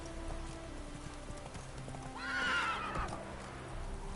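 Roach the horse in The Witcher 3 gives a clear whinny in the middle while hooves clip-clop steadily underneath and ambient game sounds carry on faintly.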